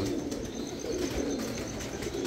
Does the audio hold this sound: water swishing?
no